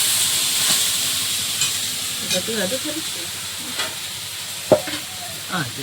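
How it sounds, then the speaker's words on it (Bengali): Okra fries in a pan with a soft, steady sizzle, and a few clinks and scrapes of stirring come through near the end. "এদিকে ঢেঁড়স ভাজা হয়ে এসছে"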